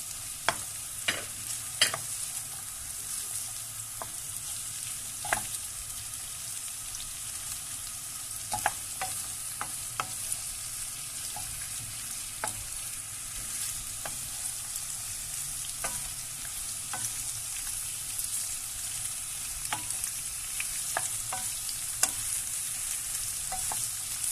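Peppers hiss softly as they fry in a pan, with scattered scraping clicks from a stirring utensil over a long, even sizzle and no talk.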